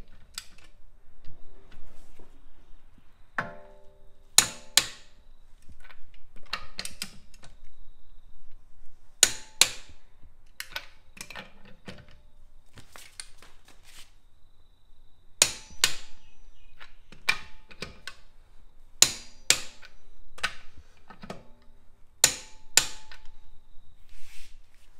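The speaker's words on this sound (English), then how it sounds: "Torque wrench here, this is set to 120 newton meters" A torque wrench set to 120 newton meters tightens the wheel nuts on a 2019 Subaru WRX STi, giving sharp isolated clicks and ratchet ticks spaced irregularly over a quiet background, fairly close.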